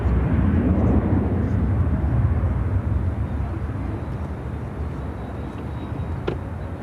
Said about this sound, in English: Taking off to Minneapolis on a 737-900ER.